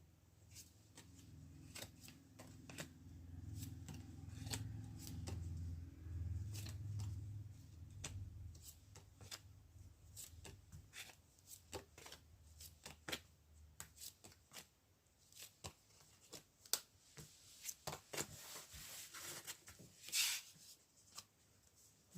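Tarot cards being shuffled up close, soft rapid riffling and clicking taps through the clip, quiet and without talking, with a low muffled rumble in the first seconds.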